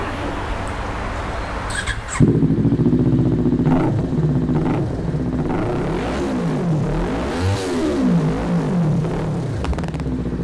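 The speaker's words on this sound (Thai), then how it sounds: "แต่ลองฟังเสียงเครื่องยนต์กันดูนะครับ" A modified 2018 Kawasaki Ninja 400 with an AR aftermarket exhaust starts and runs nearby, a loud rumbling idle broken by several sharp throttle blips that rise and fall, with no one talking.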